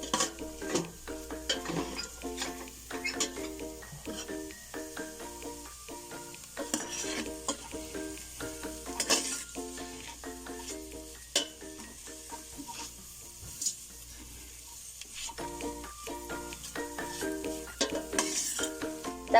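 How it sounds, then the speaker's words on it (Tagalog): Leftover fish frying in a pan with a spatula stirring it, giving steady sizzling broken by repeated scraping and clinking strokes against the pan, close and continuous. "Haluin natin yung ating fish."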